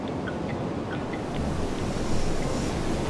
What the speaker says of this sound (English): This is the slightly warmer Indian Ocean